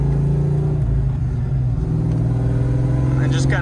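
A car engine idles steadily while warming up in freezing 19-degree cold before a nitrous run, a constant low rumble with a faint tonal whine near the end.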